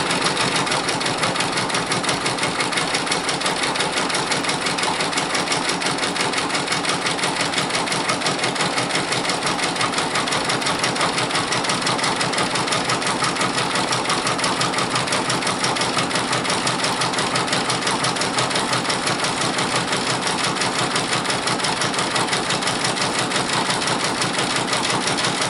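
A Brother Persona PRS 100 embroidery machine stitches a monogram onto boots, a continuous loud, even mechanical hum and rapid needle chatter running without pause.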